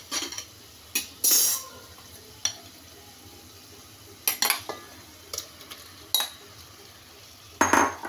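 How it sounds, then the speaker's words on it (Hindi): Prawns are added to a biryani pot of cooked potatoes and stirred in, giving faint sizzling under scattered sharp clinks and scrapes of a spoon against metal, with no talking. "अब इसमें ऐड करेंगे प्रॉन्स।"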